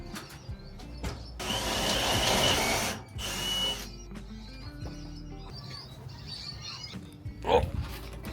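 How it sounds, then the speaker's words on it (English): A power drill bores a hole through the ceiling of a motorhome, whirring loudly in two sustained runs with a short break, followed by quieter handling noises. "Okay, so hole has been drilled."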